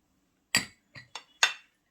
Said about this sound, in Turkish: Bir tane yumurtamı koyuyorum arkadaşlar.